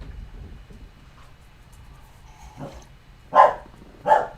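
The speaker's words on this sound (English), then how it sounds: "And there goes my dog again. Barking at nothing, I'm sure." A dog barks indoors, three short moderately loud barks a moment apart, the last two strongest, over a quiet background hum with no talking.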